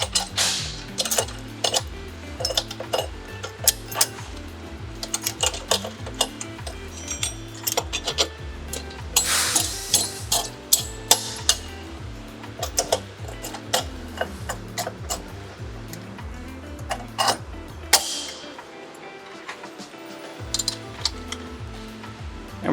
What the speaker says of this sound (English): Go ahead and lay that chain back over the new sprocket.